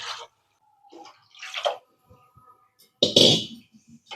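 Water pours into a cooking pot in short, separate bursts, with one fuller, louder splash near the end; nearby and fairly quiet, with no talking.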